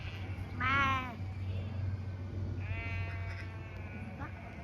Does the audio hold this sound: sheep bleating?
yes